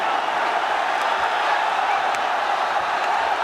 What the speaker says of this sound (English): This crowd is crazy.